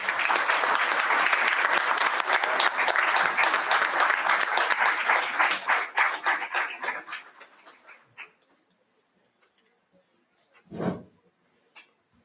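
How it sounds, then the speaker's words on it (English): An audience at a college event applauds steadily for several seconds, a dense crowd clapping that thins out and dies away, followed by quiet and one brief isolated sound. "Please keep applauding."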